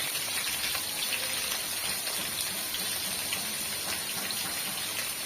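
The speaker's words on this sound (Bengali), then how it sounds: "কাঁচা জল দিয়ে দিচ্ছি" Raw water pours into a cooking pot in a village kitchen, making a steady, continuous rushing splash up close that holds the same level throughout, with no voices.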